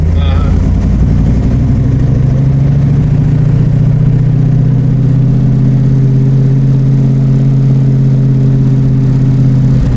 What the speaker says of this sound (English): The performance Fords have always had a nice sound to the exhaust